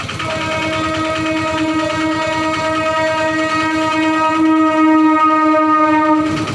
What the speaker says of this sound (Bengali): বন্ধুরা আসছে ট্রেনটা।